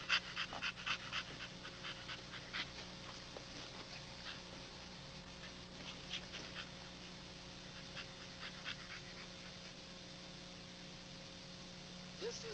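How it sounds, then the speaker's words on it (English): A dog pants and whimpers in a kennel yard, faint rapid breaths and soft whines repeating throughout over a low steady hum, with brief quiet talk nearby. "Good girl, real well-structured dog with a great attitude."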